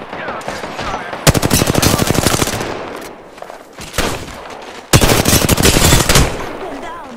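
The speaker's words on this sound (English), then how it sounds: "Getting shot at." Automatic weapon fire in an Apex Legends match: two long, loud bursts of rapid gunshots, each lasting over a second, with quieter scattered shots and game noise between them.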